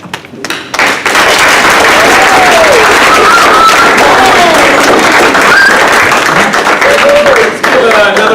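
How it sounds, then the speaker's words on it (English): Sustained applause from an audience at a community rights forum for homeless people, steady and dense for most of the clip, with voices and cheers mixed in over the clapping. "Let's give another round of applause for our speakers."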